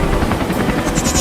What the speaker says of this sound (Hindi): वहाँ नीचे लेकर चल हेलीकॉप्टर को।